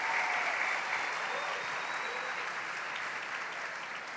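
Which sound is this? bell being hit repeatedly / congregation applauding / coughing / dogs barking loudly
congregation applauding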